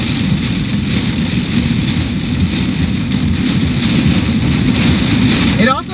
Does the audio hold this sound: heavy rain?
yes